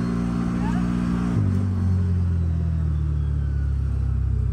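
A CFMOTO off-road vehicle engine lugs in low gear while pulling a heavy load, a steady low droning rumble that deepens in pitch partway through, with talk over it.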